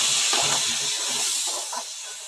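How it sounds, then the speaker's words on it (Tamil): Tamarind extract poured into hot oil for tamarind rice gives a loud, close, continuous hiss and steam rush with a few bubbling pops, easing off slightly near the end, no voices. "புளியை ஊற்றியாச்சு."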